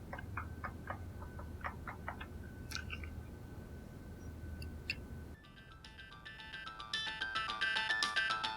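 An incoming call rings a phone: faint chirping tones come first, then a fuller melodic ringtone swells louder toward the end. No one speaks.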